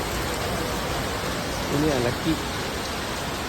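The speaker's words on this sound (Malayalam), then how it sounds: "കുറച്ച് നേരമായി മഴ തുടങ്ങി." Heavy rain pours steadily in Malaysia outside a laundry shop, a dense continuous hiss throughout with a brief voice speaking partway through.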